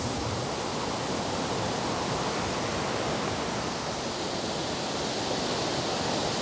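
Steady rushing roar of a waterfall near Llanberis in North Wales at night, a dense, continuous broadband wash of falling water that stays loud and unchanging throughout, with no voices.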